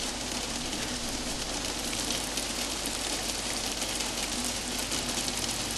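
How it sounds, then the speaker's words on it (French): Heavy rain in the video game Until Then hisses in a dense, unbroken wash of patter, steady and loud throughout with no voices. "Voilà, elle est là le bruit de la pluie."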